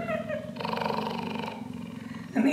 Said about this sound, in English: Goodness, listen to that purr.